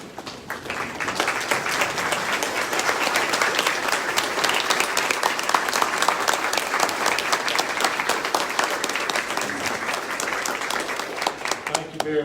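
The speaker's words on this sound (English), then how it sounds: "I'm going to ask everybody else to stand and give him a round of applause." Standing ovation at a community luncheon, a large room of people clapping in a long, dense, even wave that swells and holds steady, with faint voices beneath.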